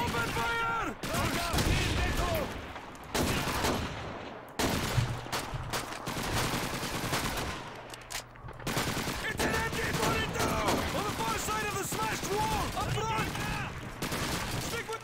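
Dense, continuous machine-gun fire and gunfire in a Call of Duty 2 battle, loud and sustained throughout, with shouting voices layered over the shooting.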